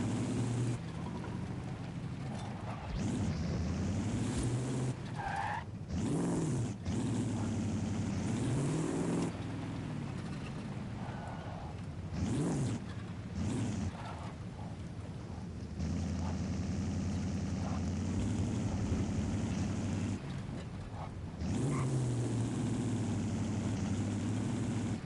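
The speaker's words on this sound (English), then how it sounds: "Even with the stock i6 engine in it, which is a diesel." A stock diesel inline-six truck engine in a video game runs steadily, a low droning rumble with revs rising and falling in several surges over about twenty-five seconds, with no talk.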